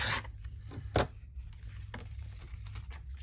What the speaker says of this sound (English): I might even attempt to cut around the oval shape.